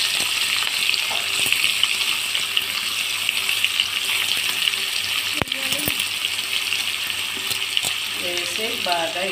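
Onion and green chilies go into hot tempering oil with curry leaves and a dried red chili, giving a steady, close sizzling hiss that runs throughout, with a few clinks of utensils and a brief voice near the end.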